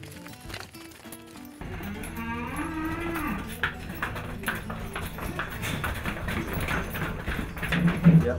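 A cow on an organic farm moos close by in a long, rising then falling call, with hoof clops and shuffling around it.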